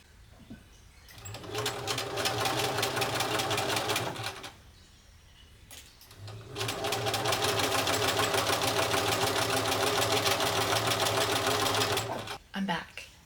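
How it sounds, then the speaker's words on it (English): A sewing machine stitches elastic channels into a linen dress bodice in two long, steady runs of rapid, close mechanical whirring, with a quiet pause between them. "I am currently sewing the elastic channels for the back bodice part of the dress"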